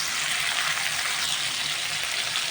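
Two tomatoes cut into large chunks sizzle in a hot pan, giving a steady, dense, crackling hiss throughout with no voices.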